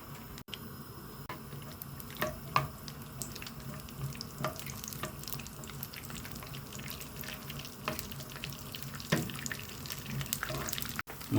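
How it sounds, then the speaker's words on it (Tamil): Cashews and raisins fry in ghee, giving a quiet, continuous sizzle with scattered crackles and stirring clicks, close and steady with no talk. "நெய் உருவிட்டவனே முந்திரி பயிரையும் திராட்சையும் போட்டு வதக்கி எடுத்துக்குவோம்."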